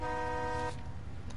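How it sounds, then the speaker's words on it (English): A car horn sounds in the L.A. Noire video game, one long sustained honk that cuts off abruptly partway through, leaving low engine and street rumble behind. "Don't fucking honk on me"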